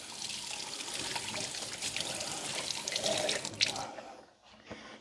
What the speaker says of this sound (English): Now I'm going to have to go over here and wash my hands.